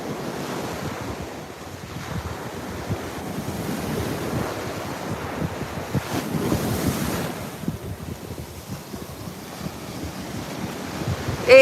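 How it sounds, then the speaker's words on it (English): Ocean waves break and wash under a pier at Juno Beach, Florida, on a windy January day. Steady roaring surf blends with gusting wind buffeting the microphone, and no voices are heard. "I love to watch the waves break under the pier."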